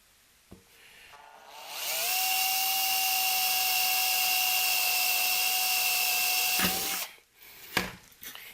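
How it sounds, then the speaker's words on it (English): A power drill bores a pilot hole through a metal chassis for a compact 5W tube audio amplifier, spinning up to a steady, loud high whine for about five seconds before stopping, with a few handling clunks afterward. "I like going ahead and drilling all of these pilot holes right out of the gate"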